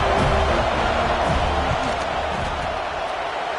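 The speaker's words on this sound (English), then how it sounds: "This crowd trying to do its part to get inside the kicker's head." A dense stadium crowd roars without a break while a field goal is lined up in NCAA 26, loud and sustained throughout, with a game commentator's voice faintly mixed in.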